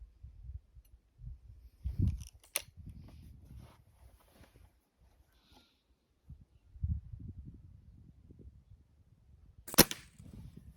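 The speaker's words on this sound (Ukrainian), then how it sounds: "будемо стріляти всіми підряд" Two sharp, crisp air rifle shots from an Öztay Shanghai B1-1 or PSRM 2-55 at a 10-metre range ring out several seconds apart, separated by quiet stretches of soft low thumps and handling noise.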